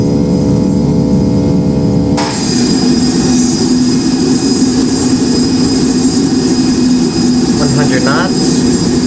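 Boeing 757 jet engines spool up to takeoff thrust in a flight simulator, a loud steady roar that jumps in level after a couple of seconds and holds, with a brief voice near the end.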